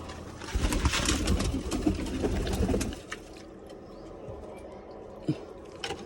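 Pigeons coo and flutter nearby for a few seconds, then things turn quieter with only faint scattered sounds.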